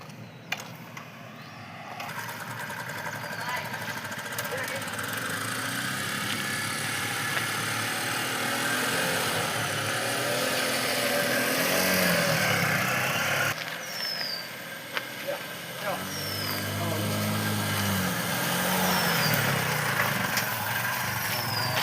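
A motorbike engine starts and keeps running steadily up close, a loud continuous drone with brief gaps and a few sharp clicks, set outdoors in a village.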